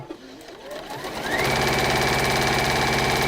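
A domestic sewing machine runs steadily, stitching fabric with a quarter-inch seam in gold thread, its motor whirring up to a fast, even hum and holding there close and loud.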